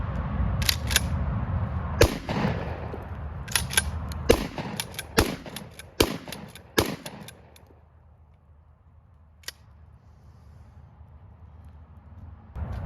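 A cheap shotgun fires a series of sharp, loud outdoor blasts in the first seven seconds, some shots close together, with one more isolated report near the end amid quiet ambience.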